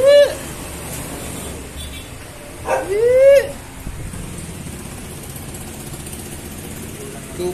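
Small puppies give a few high yips and whimpering barks, one near the start and a pair in the middle, over steady background noise and faint talk.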